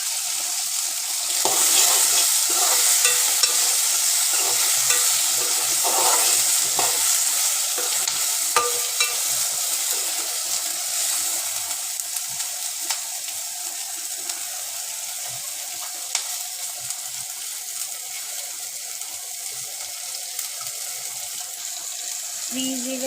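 Cumin and fenugreek seeds fry in oil for a homemade tomato chutney, producing a continuous crackling sizzle with scattered pops and occasional stirring, close and fairly loud throughout with no voices.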